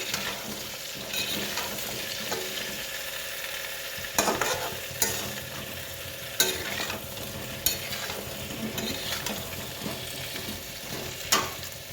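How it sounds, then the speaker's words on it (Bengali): A meat dish with a little turmeric frying in a pan, a steady sizzle throughout, broken by repeated scraping clacks of a spoon stirring and knocking against the pan, with no voices. "এটা আমরা একটু ভাজবো, মানে অল্প লাল হতে দেবো"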